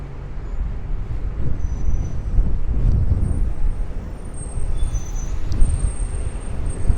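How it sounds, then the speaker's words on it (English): Gusty wind blowing along a city street, a rough low buffeting roar that rises and falls in bursts, with faint distant traffic beneath and no speech. "I'm fighting the wind here."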